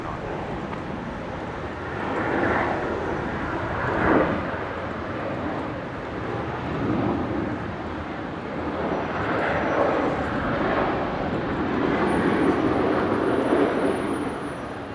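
An airliner takes off from runway 19 left at Brisbane, its engine roar rising and swelling in waves, loud and continuous with no voices over it.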